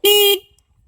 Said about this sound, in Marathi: गाडीचं हॉर्न